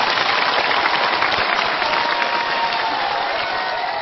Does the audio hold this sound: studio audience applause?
yes